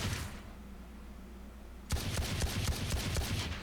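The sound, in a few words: Sheriff sidearm gunshots fired crouched in a video game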